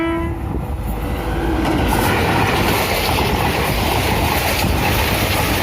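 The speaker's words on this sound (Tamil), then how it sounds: "நம்மளுடைய செகண்ட் ட்ரெயினுங்க." A train passes close by on a railway track, a loud continuous roar of wheels and rumbling cars, with a brief horn-like tone at the start.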